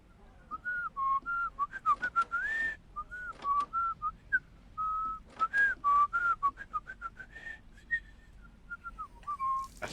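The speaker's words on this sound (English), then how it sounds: "I suck at whistling, I know." A person whistles a wandering, uneven tune in short phrases with gaps between them, close and fairly faint, with a few clicks and knocks during a horror game session.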